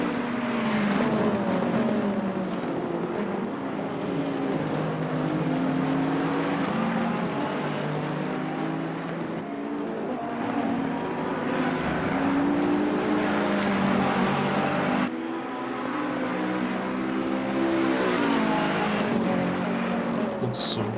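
Ferrari and Bentley race cars lapping at the Spa 24 Hours, a steady, loud engine drone with shifting pitch throughout, as if following cars on track.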